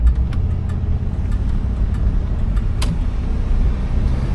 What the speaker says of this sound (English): you can hear this motor is nice and quiet, even though it's the big girl.